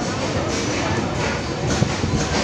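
Train at Bareilly Junction railway station, heard from on board as a steady, loud rumble and rattle of rolling carriages, with a faint clank near the end.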